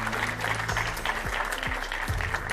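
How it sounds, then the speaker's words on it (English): Studio audience applause on a European political debate show for two MEPs, steady clapping over a low hum and gliding electronic music tones. "a round of applause for our two MEPs on The Ring"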